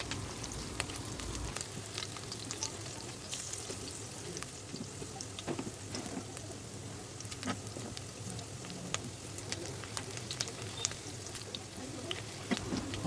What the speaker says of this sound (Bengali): একটু ভাজি করে নিয়ে কয়েকটা কাঁচামরিচ দিয়ে দিলাম।